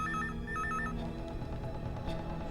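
A telephone rings twice in quick electronic trills at the start, then stops as a low background hum and music bed continue.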